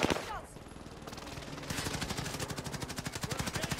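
Rapid automatic gunfire rattles in the Warzone Caldera video game, sounding as a dense, fast burst of shots that grows steadier and louder in the second half, up close and continuous.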